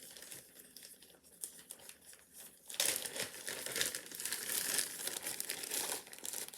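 Coconut oil is tipped from a bag into a plastic punnet: after quiet rustling, a close, continuous burst of crinkling plastic handling runs for several seconds, with no talk.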